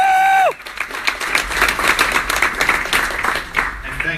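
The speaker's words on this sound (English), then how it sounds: "Please join me on a big round of applause." An audience bursts into a round of applause right after a short electronic tone, many hands clapping steadily and fairly close, with some scattered crowd noise, for about four seconds.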